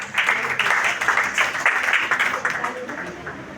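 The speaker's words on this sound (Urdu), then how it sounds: "بہت ساری تالیوں میں" Audience applause from a crowd at a speaking event, a dense, steady crackle of many hands clapping that stays fairly loud throughout and tapers off slightly toward the end.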